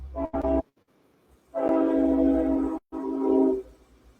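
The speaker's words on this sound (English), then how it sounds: "Sorry for the train going by" A train passes close by, with loud sustained horn blasts in three bursts over a rumbling rail background.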